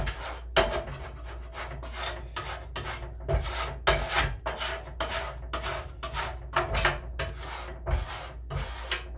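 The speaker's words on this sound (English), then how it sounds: "one of the best things about this flat top is I can just grab it, scrape clean" A metal scraper drags across a flat top griddle to clean it, a series of rough rasping strokes in an irregular rhythm, close and fairly loud.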